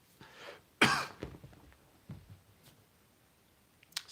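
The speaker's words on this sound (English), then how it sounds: "Scared the cat away with a cough." One sharp cough in a quiet room, close and abrupt, followed by a few softer throat noises and small movements.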